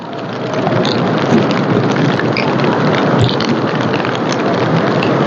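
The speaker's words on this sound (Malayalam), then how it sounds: "മഴയും കാറ്റും ആസ്വദിക്കണാണ്" Steady rain and wind at a beach with waves surging in, a loud continuous broadband roar that holds constant throughout with no voices.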